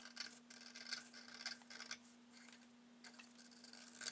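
Paper is snipped with scissors around the edge of a printed pattern, a soft papery rasping in short uneven bursts, close and quiet over a steady low electrical hum.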